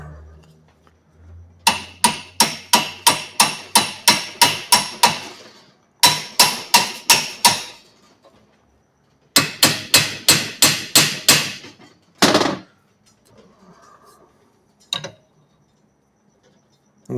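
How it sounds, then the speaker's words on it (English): A brass hammer strikes parts stuck fast in a shed workshop, sharp metallic blows landing in quick bursts of about six to ten hits, separated by short pauses, then a few last isolated knocks. "Let's get the brass hammer."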